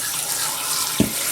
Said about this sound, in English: So now we're going to take our strained chicken and we're just going to rinse it off with hot water.